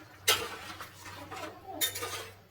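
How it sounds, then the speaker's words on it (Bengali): Egg curry being stirred in a pot after the eggs go in, a spoon knocking and scraping with two sharp clinks among softer stirring sounds, close and without voices. "ডিমটা দিয়ে নাড়াচাড়া করেছি"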